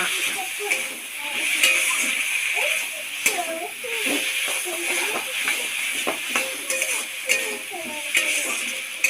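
Cumin and chili dropped into hot oil over a pan of potatoes and fish for a Pangash Tengra curry, giving a steady bright sizzle and hiss with scattered stirring clicks under ongoing talk.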